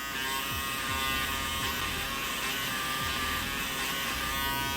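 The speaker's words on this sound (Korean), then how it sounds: "이런 칫솔로 한번 테스트 해보면 알 수 있거든요. 이렇게 하면 깎이는 게 전기 면도기는 또 보여요." An electric shaver hums steadily as it trims the bristles of a toothbrush, a loud, close buzzing drone with repeated short dips as the head moves across the bristles, no talk.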